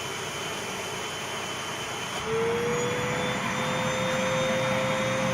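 A hoover vacuum runs through a homemade dust collection outlet with a steady loud roar of rushing air, which rises in pitch and intensity partway through as the airflow changes.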